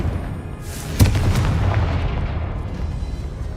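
Confringo explosion spell cast in Hogwarts Legacy, a single sharp booming blast that hits at once and then fades into a lingering rumble, with no talking.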